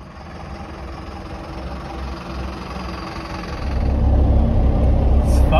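A 4x4 passes through the gate of Nizwa in Oman: a steady low engine rumble from inside the vehicle that swells noticeably louder near the end, with no clear talk.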